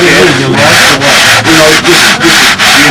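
Steady abrasive rasping of sanding against an old sanding belt, in repeated strokes with brief pauses roughly every half second, loud and close.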